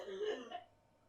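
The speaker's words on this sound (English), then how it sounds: "there's my sister coughing up a lung" A short, throaty cough or throat clearing, fairly faint and close, trailing off into quiet.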